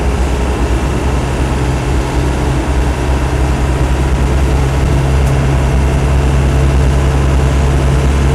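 A Land Rover 90 hardtop with a 200tdi diesel engine pulls away under steady acceleration, a loud continuous low rumble with a broad drone lasting throughout, heard close and alone without talk.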